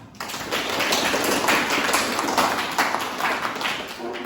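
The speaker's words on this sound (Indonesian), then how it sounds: "Bagus, ya. Tepuk tangan." A classroom of students breaks into a burst of applause, a dense wash of clapping hands that starts abruptly and carries on evenly without talk.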